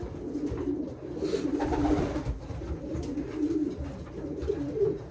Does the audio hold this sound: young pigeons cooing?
yes